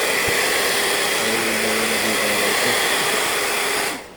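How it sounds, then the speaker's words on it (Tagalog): A homemade heat blower runs steadily and loudly, roaring continuously with a broad rushing whir, cutting off abruptly near the end. "sa harap yun yung DIY ko na blower"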